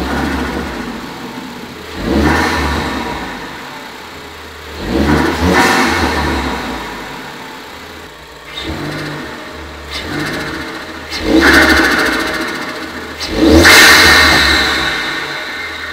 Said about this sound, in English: If you want that cold air intake sound, you really can get it with just a nice green air filter